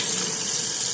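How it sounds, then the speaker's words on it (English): A tap runs steadily into a sink during handwashing, a close, continuous hiss of flowing water lasting the full second with no pauses and no voices. "Always gotta wash your hands before and after touching food."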